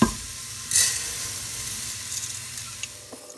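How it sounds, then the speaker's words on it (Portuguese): Arborio rice fries in a pan for risotto, giving a steady close sizzle broken by a brief louder burst of stirring near the start, then settling back to an even hiss. "Agora eu vou fritar esse arroz até as pontinhas dele começarem a ficar transparentes"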